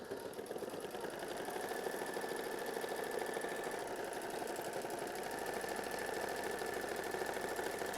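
Computerized sewing machine quilting decorative and applique stitches on a quilt block, a steady, close, even mechanical whir with rapid needle clatter running continuously without pause.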